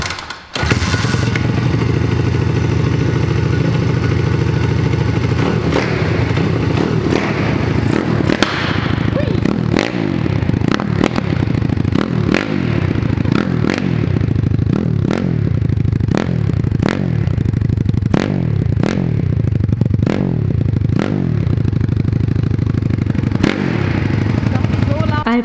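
A pit bike with an FMF exhaust kicks into life up close and idles loudly, broken by a long run of sharp, evenly spaced throttle blips that crack and fall away one after another.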